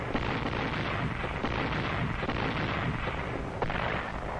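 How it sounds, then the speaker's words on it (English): Corps artillery batteries lay down heavy interdiction and harassing fire on an enemy supply and bivouac area on Guam during World War II, heard as a dense, continuous rumbling barrage of booms and blasts with no voices. "Batteries from Corps Artillery laid down heavy interdiction and harassing fire on the enemy supply"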